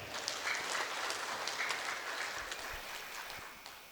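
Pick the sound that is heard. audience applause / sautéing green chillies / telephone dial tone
audience applause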